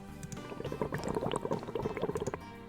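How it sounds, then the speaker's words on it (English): Bubbling, gurgling sound effect from the video game Paper Robot, a dense stream of small liquid pops and burbles running steadily for almost three seconds, fairly quiet and heard alone. "What's our bubble sound? Don't we have a bubbly sound?"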